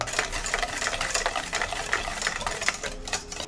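Strawberry frozen yogurt ingredients, salt, xylitol, skimmed milk powder, glycerin and strawberry extract, being mixed, giving a steady, fairly quiet whirring and clattering churn that continues alone without a break.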